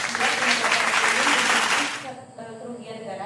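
A short burst of clapping from a group, steady and fairly close, then fading after about two seconds to quieter background sounds.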